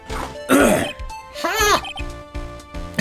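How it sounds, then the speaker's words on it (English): A person clears their throat in an odd, exaggerated way: a few short raspy bursts mixed with strained voiced sounds, close and loud, over about three seconds. "I was clearing my throat in a weird way"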